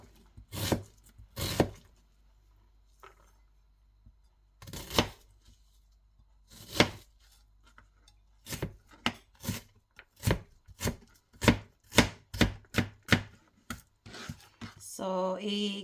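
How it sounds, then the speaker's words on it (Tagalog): Onion chopped into small pieces on a board, a few spaced knife strikes followed by a quicker run of sharp regular chops, close and clear with no talking. "hiwain lang natin yung ating onion maliliit"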